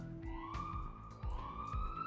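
An ambulance siren in Roblox wails steadily at a low level, rising and falling in a repeating pattern, with soft thumping in the background.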